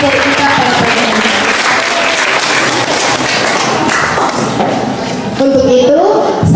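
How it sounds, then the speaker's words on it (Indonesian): Audience clapping for three presenters at a school session, a continuous wash of hands that starts under a speaking voice and carries on with talk over it. "Sekali lagi mari kita berikan tepuk tangan untuk ketiga pemateri kita pada pagi hari ini."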